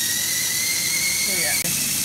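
VEX low-friction launcher prototype spinning up to launch balls, giving a loud, steady high-pitched whine with a pitch dip and a sharp click near the end.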